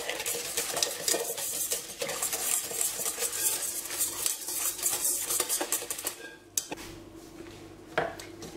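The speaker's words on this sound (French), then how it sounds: "Je vais rajouter à cette préparation mon lait infusé. Je mélange et je mets énergiquement." A whisk clatters rapidly against a metal bowl while infused milk is stirred vigorously into a cake cream mixture, a busy, close run of scraping and tapping that pauses briefly before resuming.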